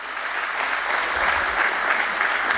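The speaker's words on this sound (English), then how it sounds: "can we please have a little bigger round of applause for the lovely lady here?" An audience at the Adon Agro Commodities Limited listing ceremony at BSE breaks into dense, sustained applause, loud and even throughout with no pauses.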